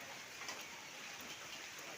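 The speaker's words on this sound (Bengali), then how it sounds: "এখন বাজে আড়াইটা তো এখনো পর্যন্ত চলছে বৃষ্টি" Soft, continuous patter of rain falling, an even hiss with no voices, heard from a little distance.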